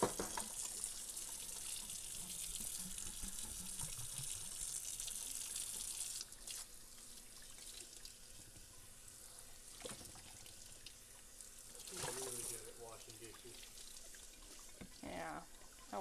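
Water runs from a kitchen tap into a sink while milk jugs are washed, a faint steady flow with splashes and some clunks of handling, and soft talk in places.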